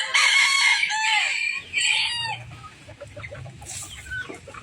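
Pet chickens and turkeys feeding on a small farm, with loud close crowing and clucking at first, then softer fowl calls and low murmuring noises underneath.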